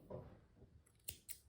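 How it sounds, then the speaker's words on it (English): Scissors snip through yarn once a crocheted puff flower centre is finished, giving two short, crisp cuts close to the mic after some quiet handling rustle. "now we can just chain 1 and cut the yarn"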